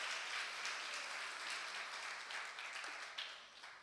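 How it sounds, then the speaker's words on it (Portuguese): Church congregation applauds during a sermon, a dense, fairly steady round of clapping from many hands that fades slightly at the end, heard at a moderate distance without speech over it. "Pode aplaudir a Jesus"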